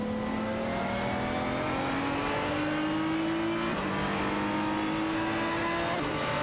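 A Porsche Carrera GTR and Ford GT race in a video game, their engines whining in a steady, loud, layered drone with rising pitch and a brief dip midway as the cars shift.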